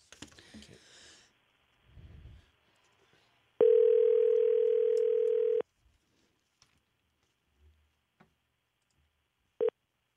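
Telephone call placed for a radio segment: a steady dial or ring tone sounds for about two seconds, then a short tone burst later, with faint clicks and brief murmurs in between.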